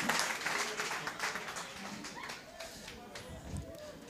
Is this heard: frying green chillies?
no